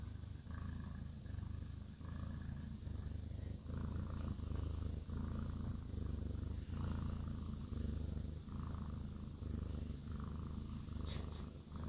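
A black Maine Coon cat purrs close up in a steady, rhythmic rumble with regular breath pulses, continuous and loud.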